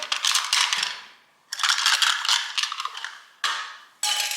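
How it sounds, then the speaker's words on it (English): Six-sided dice rattling and tumbling across a hard surface in three separate rolls, each a bright clattering burst that settles, close and fairly loud with no talk. "So we're gonna roll a 6-sided dice."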